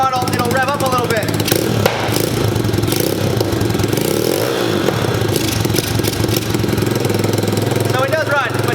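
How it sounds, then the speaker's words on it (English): A cheap used pit bike with a poorly running engine revs up a little at part throttle, a loud continuous buzzing drone close by, with someone talking over it at moments. "If you give it part throttle, it'll rev up a little bit."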